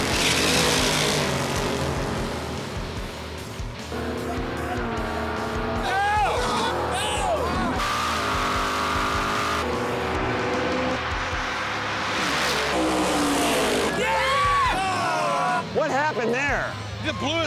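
Chevy drag race cars at Sonoma Raceway roar and launch with engine blare and tire noise, partly masked by someone talking steadily over them throughout.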